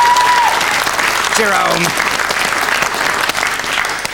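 Game show studio audience applauds contestant Rob, a steady dense clapping that fills the whole stretch at close range, with a host's voice speaking briefly over it.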